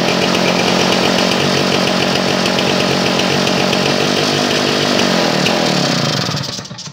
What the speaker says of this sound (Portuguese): Vamos botar ele a funcionar para nós ver